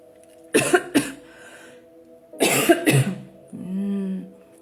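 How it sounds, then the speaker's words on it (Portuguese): A person coughs in two close double bursts, harsh and near, separated by a quiet pause, followed by a short low voiced hum. "E a tosse está por aí."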